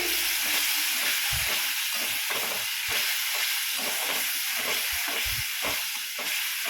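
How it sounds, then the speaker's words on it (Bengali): Masala paste of coriander and cumin powders cooks in a pan after a splash of water, giving a continuous hissing sizzle with a regular pulse of stirring strokes close by. "মা কষানোর জন্য সামান্য একটু জল দিল মশলাতে"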